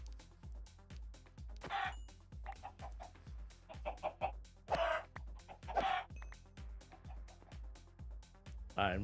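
Chickens cluck in a blocky Minecraft farm pen as they are slaughtered, several short squawks and clucks popping up over a steady rhythmic thumping of game sounds.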